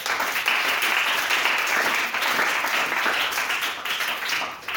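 A church congregation applauds and cheers in a continuous, loud wash of clapping and acclamation that holds steady throughout, fading slightly at the end.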